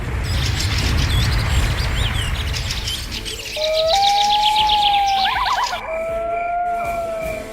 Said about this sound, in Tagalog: Nagliliparan na ang mga ibon sa paligid noon